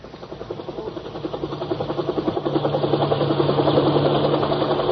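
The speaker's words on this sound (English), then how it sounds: "Overhead, a helicopter windmilled toward the shambles." Rhythmic thumping of helicopter rotor blades over a low engine drone, steadily growing louder as it approaches.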